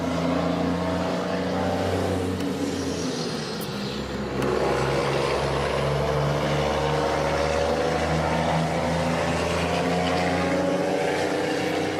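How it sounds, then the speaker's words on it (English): A big logging truck passes close by with a loud, sustained engine roar and deep rumble that swells partway through and stays strong to the end. "there's just a big logging truck going by"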